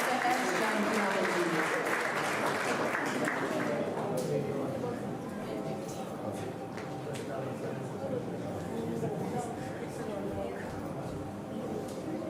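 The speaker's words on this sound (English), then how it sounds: "with a huge round of applause, may I please invite Dr. S. Janakiraman" An evening audience at the International Gita Mahotsav in Sydney breaks into a long, steady round of applause with scattered sharp claps. It follows a few seconds of voice over a public address system and then fades slightly as it continues.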